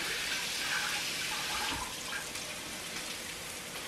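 Running water streams steadily from a kitchen tap as broccoli is rinsed under it, a soft, continuous splashing hiss at moderate level with no talk.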